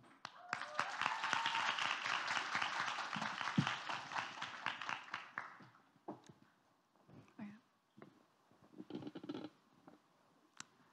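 An audience at a global youth trends forum applauds to welcome a speaker from India: dense, lively clapping rises at once and carries on for about five seconds, then fades out into scattered small sounds and room noise.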